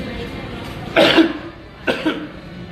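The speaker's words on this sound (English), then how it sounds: "I got a cough coming" Two short, hoarse coughs from a nearby person, the first stronger than the second, separated by a brief pause.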